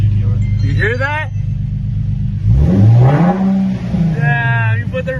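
A Nissan 370Z with a GTR-style start button revs up, its engine note rising and falling in a loud close sweep, while someone talks over it before and after.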